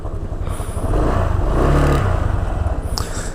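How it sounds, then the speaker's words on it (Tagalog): A red Honda Click 160 scooter idles and warms up close by, its engine rising to a steady, louder revving drone in the middle before settling back, with a faint clatter near the end. "painitin lang natin ng konti ito yung ating service na si Red Click 160"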